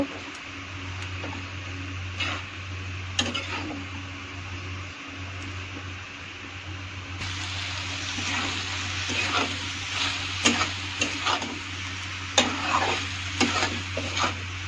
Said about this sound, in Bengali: ছেড়ে দিয়ে পালং শাকটা একটু নেড়ে চেড়ে নেব।